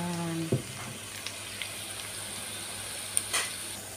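Garlic dropped into a hot pan while cooking a tofu, mushroom and oyster sauce dish gives a soft, steady sizzle. A couple of sharp utensil clinks ring out over the quiet frying.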